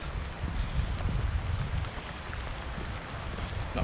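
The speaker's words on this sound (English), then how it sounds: "Here comes the rain." Steady rain falls on a moorland walk in the Peak District, a continuous broadband hiss with low wind rumble, even and unbroken throughout.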